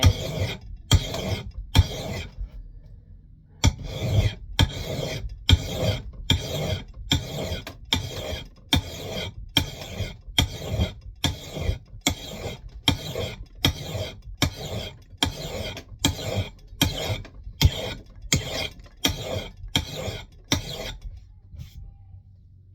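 A hand file rasps against an axe head in steady, evenly spaced strokes, about one per second, each a loud, near, gritty scrape with a brief pause between, continuing alone with no talk.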